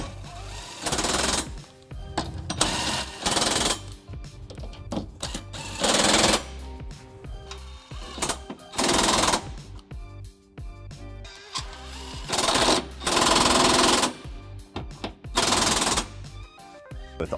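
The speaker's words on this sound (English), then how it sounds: "I'm just gonna snug these up with a 19 millimeter socket before we get them ready for a final torque." Bursts from a power ratchet or impact tool with a 19 mm socket snugging trailer hitch bolts on a 2006 Pontiac Vibe: several loud, close rattling runs of a second or two each, separated by brief pauses and clatter.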